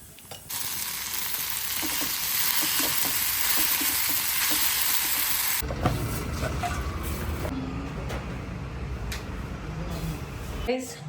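Food frying and sizzling in a pan while lunch is cooked, a loud continuous hiss up close with occasional stirring, then shifting to a lower, busier sizzle.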